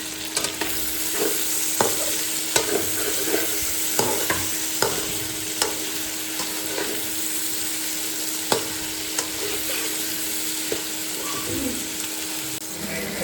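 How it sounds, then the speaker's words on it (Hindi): Chopped tomatoes fry in a pan for a creamy veg macaroni, giving a continuous close sizzle broken by sharp clicks and scrapes as a spoon stirs them. No voices are heard. "इसमें टमाटर डालते हैं।"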